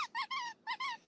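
A dog squeezes a squeaky toy, making five sharp, high rubbery squeaks in two quick bursts with a short gap between them, fairly close and alone.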